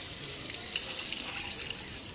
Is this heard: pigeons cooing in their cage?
no